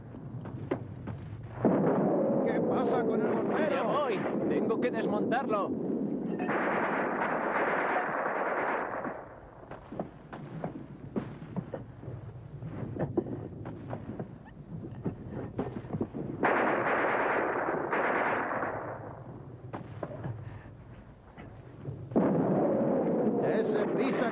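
War-film battle noise from a 1951 movie, with dense bursts of gunfire and heavy booming blasts that come in loud waves, dip briefly, then return, mixed with shouting voices.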